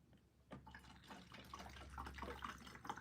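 Acetone is poured from a freshly opened container into a bottle that already holds some water, a soft, quiet trickle and splash that grows steadily fuller over a few seconds.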